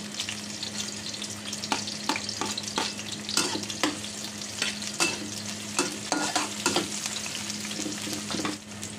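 Garlic and onion sautéing in a pan for igado, a steady sizzle of frying with repeated sharp scraping and stirring clicks of a utensil, close and alone without talk.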